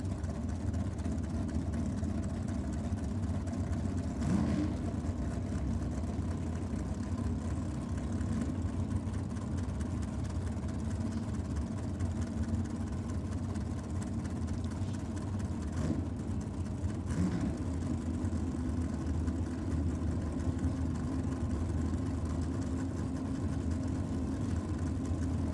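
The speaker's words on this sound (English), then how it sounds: "410 cubes small block Chev on board for Jess, and 555 cubes big block Chev on board for Danielle." Two drag racing cars idle together at a nitro drag meet, one with a 410 cubic inch small block Chevy and one with a 555 cubic inch big block Chevy, giving a steady, heavy, low rumble that continues throughout without speech.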